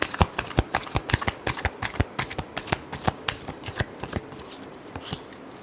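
Tarot cards riffled and shuffled by hand in a quick run of crisp slaps and flutters, close and fairly clear, one last shuffle before a card is drawn, with no talking.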